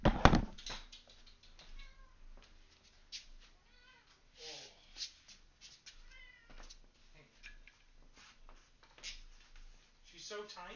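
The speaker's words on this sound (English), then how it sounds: "Oh, I have a fourth cat." A small kitten, the fourth of several cats, meows repeatedly in short rising calls spread across the span, close and fairly clear, with occasional knocks and a person talking softly between the cries.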